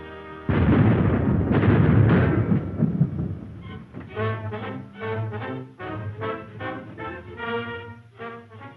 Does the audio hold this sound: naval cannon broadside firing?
yes